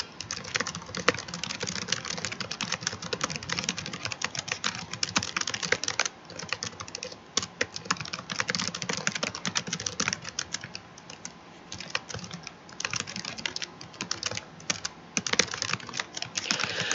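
Steady close-up keyboard typing, dense and continuous rapid keystrokes on a computer keyboard entering configuration notes, with brief pauses and no voices.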